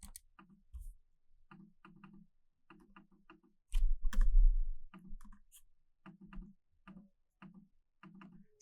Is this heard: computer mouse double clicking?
yes